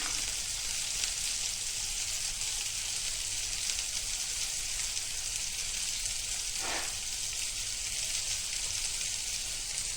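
Chicken pieces frying in a pan for a sandwich give off a steady, loud sizzle that runs unbroken throughout, with no voices.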